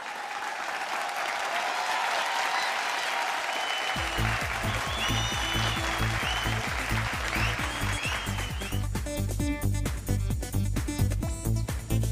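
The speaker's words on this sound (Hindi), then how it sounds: "जोरदार तालियां हो जाए।" Audience applause for a cycle stunt act on a show stage, a steady wash of clapping from a crowd that grows denser with sharp individual claps joining partway through, loud and continuous.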